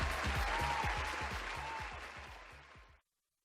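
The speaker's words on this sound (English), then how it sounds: "Let's welcome him with a huge round of applause while Mr. Kumar joins us to share a few words." Applause from an audience greeting a speaker at a Quest Global Ingenium event, steady and moderately loud with a regular low thumping underneath, then cutting off abruptly.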